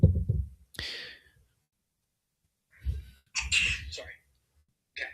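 A person sneezes during a spoken health Q&A: a sharp, close burst of breath and voice, followed a few seconds later by a second, longer sneeze-like outburst, with quiet pauses and breathy sounds in between.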